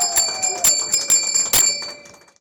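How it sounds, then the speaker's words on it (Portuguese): A handheld bell rung in a ceremony marking the end of a patient's medical treatment, struck repeatedly in a quick uneven rhythm with bright ringing tones that hang and slowly fade after the last strokes. "é realizado o toque do sino, que representa o fim de um período difícil e o recomeço de uma vida"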